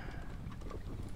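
Horse archers' hoofbeats in the video game Stronghold Warlords, a steady low clatter of galloping hooves that runs through the whole short stretch at an even, moderate level with no voices.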